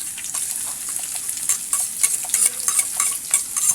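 Garlic, onion, ginger and chili frying in a hot pan, a bright constant hiss of sizzling oil with quick stirring scrapes and clicks close by, no talking.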